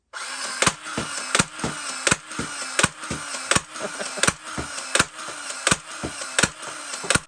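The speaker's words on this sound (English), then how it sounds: "Let's take it out of display mode and into firing mode and fire some darts." A Nerf LMTD Halo Needler toy blaster fires darts in a rapid, regular series of about a dozen sharp mechanical snaps over a continuous whirring motor hum, close and fairly loud.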